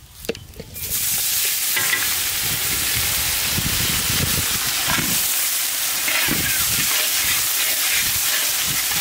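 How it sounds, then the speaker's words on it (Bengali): Onions for a Bengali katla fish kalia sizzle loudly in hot oil with bay leaf and cumin, a steady dense frying hiss running almost the whole time after a short quieter start, with occasional stirring scrapes and no talking. "জলদা পেঁয়াজ লাল লাল ভাজা হয়ে গেছে।"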